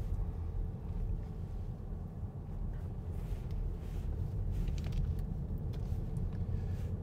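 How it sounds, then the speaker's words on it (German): Car driving through the streets of El Tablero on Gran Canaria, a steady low engine and road rumble with light wind noise, continuous and fairly even throughout, no talking. "Hier fahre ich jetzt mit euch immer noch in El Tablero."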